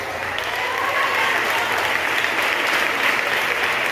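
A church congregation applauds during a worship service, steady dense clapping sustained at even loudness throughout, with some voices mixed in beneath the applause.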